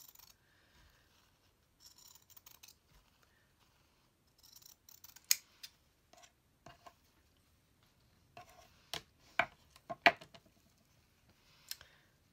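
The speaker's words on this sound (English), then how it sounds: "I'm going to cut it just shy of 2 inches." Scissors snip through paper for a strip cut to just under two inches, for altered paper clips: scattered soft rustles, then a run of sharp, close clicking cuts with short pauses between them.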